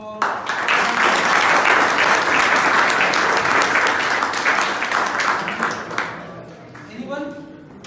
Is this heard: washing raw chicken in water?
no